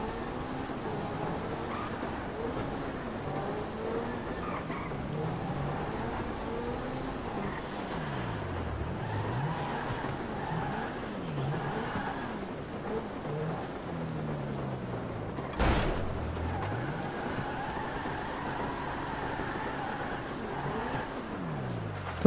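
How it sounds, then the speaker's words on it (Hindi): A car engine in GTA 5 hums steadily while driving, with rising and falling revs and a brief thump partway through, continuous and fairly close. "साउंड क्या साउंड है गाड़ी का।"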